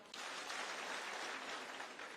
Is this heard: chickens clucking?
no